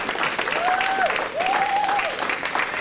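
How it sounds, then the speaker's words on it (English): Audience applause at a rites of passage ceremony, a steady wash of clapping from a crowd lasting a few seconds, with a sustained tonal whistle-like sound gliding over it. "Please give yourselves a round of applause."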